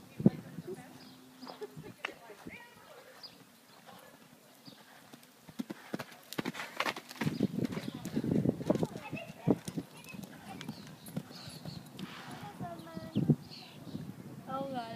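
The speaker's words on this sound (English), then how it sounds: "is that the horse from last time?" Horse hooves clip-clopping at an uneven walking pace, moderately close and growing busier midway, with people talking quietly over the steps.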